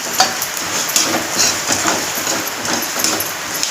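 Farsan sautés in hot oil and masala in a pan. A spatula stirs with soft scraping and tapping over a loud, close sizzle, and no voice is heard.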